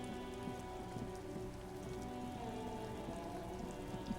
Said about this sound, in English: Sitting in the rain.